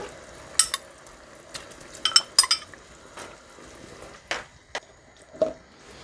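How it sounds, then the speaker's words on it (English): Conch pieces going into a pot of coconut curry on the stove, with scattered clinks and scrapes of a utensil against the pot over a faint background hiss, close and intermittent. "And now we're going to add our conch pieces."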